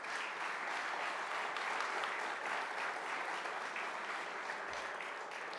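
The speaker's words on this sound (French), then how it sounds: "J'aimerais qu'on leur donne une bonne main d'applaudissement" Sustained audience applause at a hall-of-fame induction ceremony for a Midget 3A hockey league, a dense, steady clatter of many clapping hands that holds evenly from start to finish.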